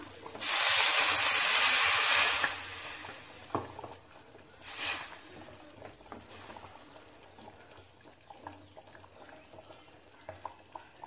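Water hits a hot cooking pan with a loud, steady hiss lasting about two seconds, then fades into softer sizzling, a brief second hiss and light clinks.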